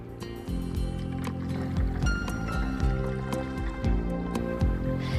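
Chamomile tea is poured through a funnel and a coffee filter, making a continuous trickling and dripping of liquid with small splashes that stay steady throughout.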